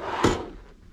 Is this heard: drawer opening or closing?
yes